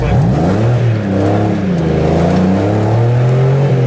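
A small car's engine revs loud and close as the driver works the clutch and shifts gears, the pitch rising and sliding between steps in a steady droning growl.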